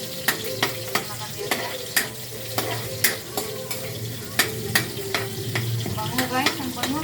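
Garlic sizzles steadily in a hot pan while a utensil stirs it, scraping and tapping the pan in regular sharp knocks roughly every half second, close and clear with no voices.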